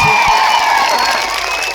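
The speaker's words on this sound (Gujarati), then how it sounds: "આજે ડેડિયાપાડા અને સાગબારા જનતાને તમે તાળીઓથી વધાવી દો" A large crowd at a political rally in Zankhvav cheers and shouts in a loud, dense burst of voices.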